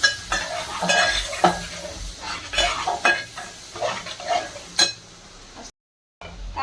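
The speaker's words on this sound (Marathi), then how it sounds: "कांदा चांगला फ्राय झालेला आहे आपला" Onions fry in oil and butter in a pan, a moderate sizzle broken by repeated scraping stirs and light clinks of a spoon against metal, ending in a brief cut to silence.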